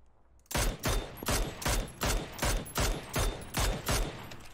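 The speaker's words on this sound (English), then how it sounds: "People shooting from hills?" Gunfire in a PUBG battle: a rapid series of about eight loud, evenly spaced shots or bursts ringing out close by over roughly four seconds, with no talking.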